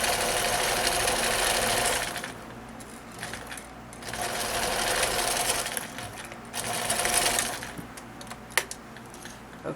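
A sewing machine stitches across one edge of a fabric scarf, its needle running in steady bursts of about two seconds with short pauses between, close and fairly loud, with a few small clicks at the end.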